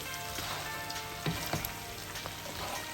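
Meat sizzles and crackles steadily in a hot pan as it browns, with a constant close frying hiss and a few sharper pops and spits.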